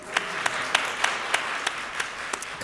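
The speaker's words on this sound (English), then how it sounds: "let's clap for Zora" Audience applause at Wellesley for the writer Zora Neale Hurston, a moderate, steady patter of clapping with a few sharper individual claps standing out, fairly close and without talk over it.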